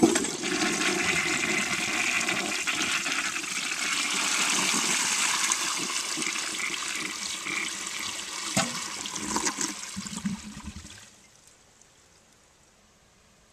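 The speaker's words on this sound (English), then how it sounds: "And now I'm going to flush the toilet to empty the tank." Standard Modernus toilet flushing to empty its tank, a loud rushing surge of water for about ten seconds that gurgles and then drops away to quiet refilling trickles.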